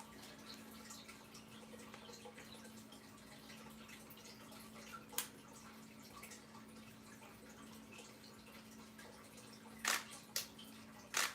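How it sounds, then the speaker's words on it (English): A camera shutter clicks a few times while photographing hatching duck eggs, sharp isolated snaps near the end over a quiet room hum. "If you hear a shutter click, that's just me taking pictures."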